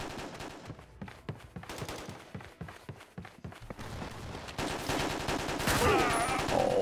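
Gunfire in the Quantum of Solace 007 multiplayer video game, rapid repeated shots in uneven bursts, fairly faint at first and then louder, with footsteps and game noise around it.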